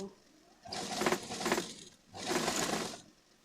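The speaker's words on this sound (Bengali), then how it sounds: "দু সাইডেই সেলাই করে নিচ্ছি এবার সোজা সেলাইটা করে নেব" A sewing machine stitching fabric for palazzo trousers runs in two short bursts of rapid, steady whirring, separated by a brief pause.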